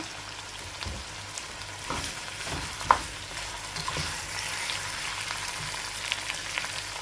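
Onions sauté on a medium-low flame for chicken biryani while being stirred, giving a soft, continuous sizzle with scattered light scrapes and one sharp clink of the spoon.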